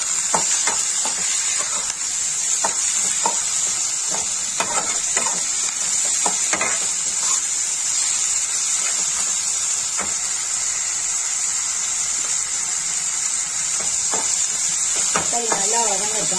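Onion and tomato sauté in a pan with a steady, bright hiss of sizzling oil throughout, dotted with light stirring clicks, and a brief voice near the end.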